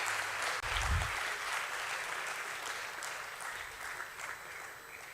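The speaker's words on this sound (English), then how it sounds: "a huge round of applause for Geo Financial Services, live on the Bombay Stock Exchange" Applause fills a hall at the Bombay Stock Exchange listing ceremony for Jio Financial Services, a steady, moderately loud crowd clapping that continues throughout with a brief thump near the start.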